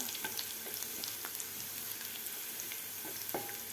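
Garlic frying in oil in a pan, a steady close sizzle with occasional small pops and stirring scrapes.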